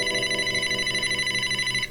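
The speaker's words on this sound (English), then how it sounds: "Is a your phone. phone ringing?" A phone ringing: a steady, buzzing electronic ringtone sounds loud and close for about two seconds, then cuts off abruptly.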